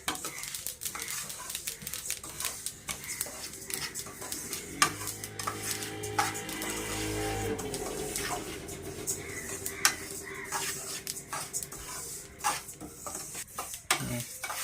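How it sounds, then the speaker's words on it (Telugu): Sesame seeds dry-roast in a pan over a medium flame, crackling softly as a utensil stirs and scrapes them in steady strokes for the whole stretch. "నువ్వులు కొంచెం మీడియం ఫ్లేమ్లో పెట్టుకొని చిప్పట్లాడిందాక మంచి కలర్ వచ్చిందాక వేపుకోవాలండి."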